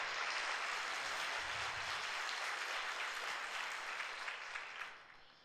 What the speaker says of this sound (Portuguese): Eu queria que a igreja desse um aplauso bem forte para esses nossos convidados.